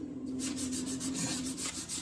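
Steady rasping strokes of sanding on a 1965 Chevrolet C10 truck body panel, repeating rhythmically up close with no talking.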